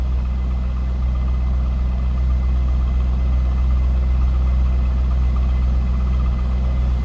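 A 2003 Chevrolet Corvette 50th Anniversary convertible idles with a steady, deep V8 rumble. It is loud and close, with no voices over it.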